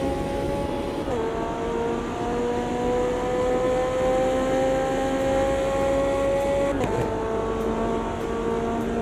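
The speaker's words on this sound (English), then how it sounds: "Can we have a listen to this car from the external view?" Race car engine in Automobilista 2, heard from an external view: a steady, loud tonal drone that holds pitch, drops sharply at two gear changes, and continues alone with no talk.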